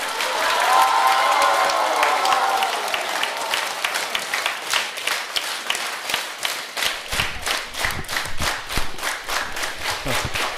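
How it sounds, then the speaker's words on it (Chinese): An audience at a Deyunshe crosstalk show in Tianqiao applauds, starting as a loose wash of clapping and settling into steady, rhythmic unison claps. "谢谢各位观众朋友们的掌声"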